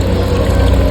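Steady broadband rush of free-flowing water at a fishpond, a continuous close wash of running water with a low rumble and no pauses.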